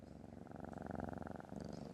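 A cat purrs close up, a soft, steady, rhythmic rumble with a brief break partway through.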